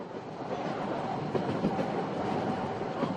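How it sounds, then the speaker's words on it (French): Corsican autorail X 97050 railcar running along the track beside a wide coastal lagoon, a steady close rumble of wheels and rails with faint rhythmic clatter throughout. "le tramway disparaît un bref instant dans l'arrière-pays, où il traverse avec fracas le Ponte le Bambino"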